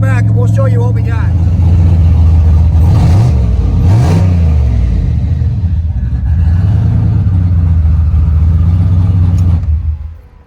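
A turbocharged Chevrolet Z71 pickup truck with a new downpipe drives a loop around a neighborhood, its engine droning loud and close inside the cab, rising and falling as it revs, then easing off near the end.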